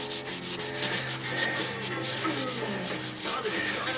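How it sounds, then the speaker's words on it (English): Continuous rhythmic rubbing of sandpaper on the lacquered neck of a custom Telecaster guitar, steady back-and-forth strokes close to the microphone with no talking. "we're sanding down quite a nice lacquer here"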